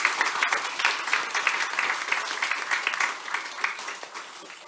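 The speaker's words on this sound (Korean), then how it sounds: "경의의 박수만 하겠습니다" A church congregation at a Sunday joint worship service claps for visiting members from out of town, a dense, rippling applause from many people that holds steady, then tapers slightly toward the end.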